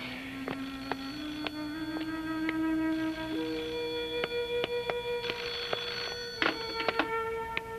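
Old-fashioned telephone bell ringing in a home, a steady metallic trill repeating across the whole stretch, fairly loud and alone with no talk over it.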